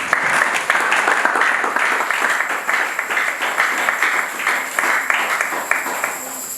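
A church congregation applauds during a French-language service, producing a dense, continuous round of clapping that holds steady for several seconds, fairly loud and close, with faint voices mixed in.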